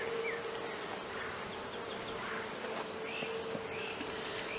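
Honeybees humming steadily in an open hive during a varroa mite check, a continuous close buzz with occasional individual bees droning past, no talking.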